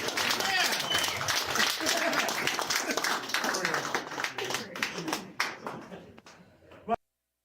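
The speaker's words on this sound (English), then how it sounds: "Give a round of applause for Mike Peters," A small podcast audience gives Mike Peters a round of applause, with clapping and voices mixed together. The sound thins into scattered claps and stops abruptly near the end.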